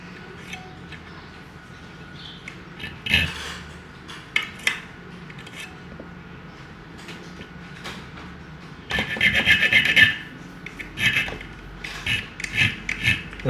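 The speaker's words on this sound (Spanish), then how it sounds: "En este caso yo estoy trabajando solo con una lima." A metal file rasps against a key blank while a copy of a lock key is cut by hand, with scattered scraping strokes early on and a denser burst of quick, close filing strokes near the end.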